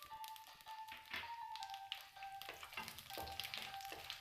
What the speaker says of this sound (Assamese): পাঁচফোৰণখিনি অলপ ধুনীয়া গোন্ধ এটা ওলোৱালৈকে আমি এনেকৈ ভাজি থাকিম